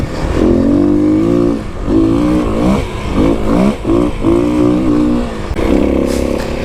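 A Kawasaki KLX300 dirt bike ridden fast through open desert with whoops, its engine loud and close, revving and shifting through rising and falling pitch sweeps with rapid throttle changes and no talk.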